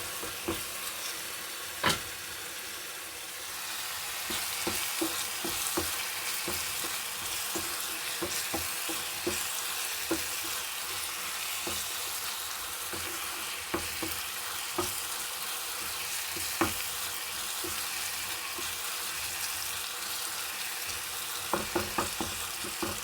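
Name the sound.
eggs frying with pepper in a pan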